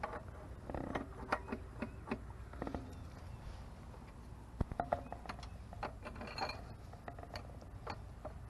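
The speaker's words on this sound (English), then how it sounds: "let me get that nut off" A wrench works a nut loose with faint, scattered metallic clicks and ratcheting ticks, a few sharper taps mid-way, quiet and close with no talking.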